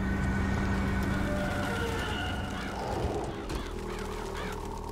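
Harsh bird squawks and honking calls from crows in the Bioshock Infinite video game rise over a dense, continuous game ambience, loud and overlapping throughout.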